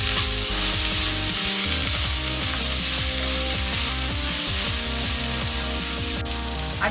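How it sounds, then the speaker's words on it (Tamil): Onions and curry leaves sauté in a hot pan for a Tamil prawn curry, giving a dense, continuous sizzle with scraping stir strokes, close and steady throughout. "வெங்காயத்துக்குள்ளேயே கொஞ்சம் உப்பு போட்டிங்கன்னா சீக்கிரம் வெங்காயம் வதங்கிடும்."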